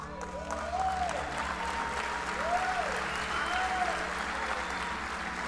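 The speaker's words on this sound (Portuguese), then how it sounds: "Pode dar uma salva de palmas forte" A church congregation at a holy convocation service applauds strongly, a sustained, dense roar of clapping filling the hall throughout, with a few sung or voiced tones rising over it.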